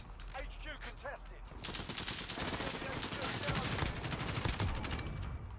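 A burst of rapid gunfire rattles in a Modern Warfare multiplayer match, loud and sustained for several seconds, with brief voice chatter at the start.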